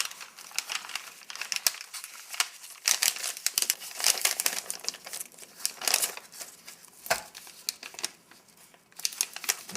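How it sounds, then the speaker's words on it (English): A 2004 military MRE pouch for a beef enchilada meal, its corners folded down, crinkles and crackles steadily as it is pushed into place, a close, continuous rustle of stiff plastic foil with no talking. "we'll fold the corners down because that sometimes helps get them in there."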